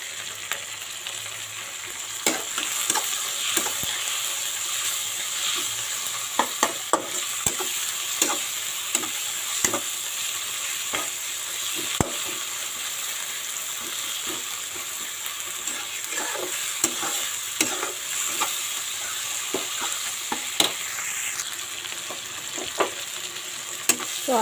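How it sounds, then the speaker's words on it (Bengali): Grated ginger and garlic fry with onion, tomato and green chilli in a pan, giving a steady hiss with frequent scraping stir clicks throughout, close and alone without talk. "তো আদা রসুনটা ভাজা হয়ে গেছে"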